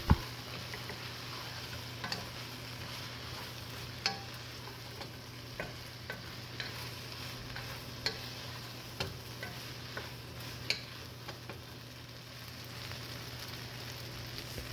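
Cooked pasta is stirred together with vegetables and curry seasoning in a hot pan. There is a soft continuous sizzle with light, irregular scraping taps from the utensil against the pan.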